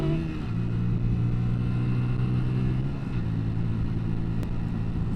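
A 2020 Hyosung Aquila GV 125 motorcycle accelerates up to about 40 with a steady, droning engine note. A brief dip partway marks a gear change before the engine climbs again, mixed with wind rumble and with no talking.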